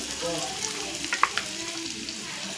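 Whole spices (cardamom, cloves, cinnamon, black peppercorns) and ginger frying in hot oil for a spiced prawn dish, a close steady sizzle with small crackles and a few sharp pops, no talk.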